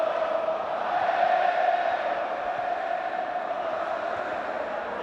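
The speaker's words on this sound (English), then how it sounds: "Even above the crowd's roar," A large football stadium crowd roars during a Serie A match between Napoli and Juventus, a broad sustained wash of distant voices that stays steady and fairly loud throughout.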